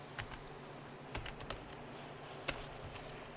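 Scattered keystrokes on a computer keyboard while setting up the F8 menu in FiveM, sparse clicks over a faint steady hum, with one firmer key press near the end.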